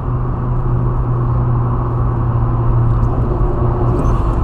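Turbocharged Lada Kalina engine running with a steady, loud low drone and strong idle harmonics, held near and constant with little change in pitch and no distinct revs.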